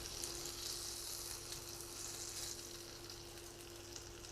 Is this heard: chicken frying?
yes